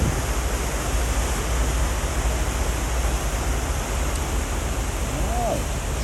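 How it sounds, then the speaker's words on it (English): Heavy rain pouring down in Grand Cayman, a steady loud broadband hiss that keeps the same level for the whole stretch with no break. "Here comes the rain."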